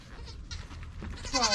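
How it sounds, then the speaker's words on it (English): A dairy goat doe lets out a short bleat near the end of a quiet stretch of faint barnyard background, close and moderately loud. "she's gonna make a really awesome dairy goat for her new owner"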